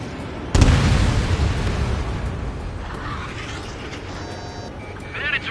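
A missile launch and explosion in a flight combat video game: a sudden loud blast that rolls into a long, fading roar, followed by beeping cockpit alerts and radio voices talking.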